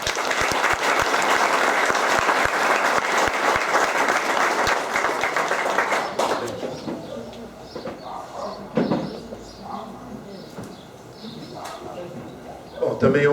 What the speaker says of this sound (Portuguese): um aplauso para o Daniel